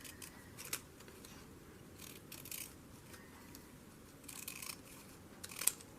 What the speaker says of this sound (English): If I cut it down, I could put it right on there.